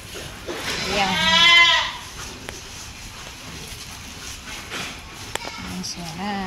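On a goat farm, a goat gives a loud, close bleat early on, then fainter bleats and shuffling hooves follow, with people talking in the background.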